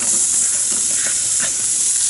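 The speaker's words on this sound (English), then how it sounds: "so I'm going to throw in the onions" Onions tossed into a hot pressure cooker hiss and sizzle in a continuous, fairly loud frying wash, with faint stirring scrapes, and no one talking.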